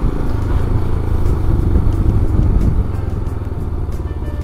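A motorcycle rides a curvy mountain road near Gangtok, its engine a loud, steady close rumble mixed with wind buffeting and road noise throughout, easing slightly near the end.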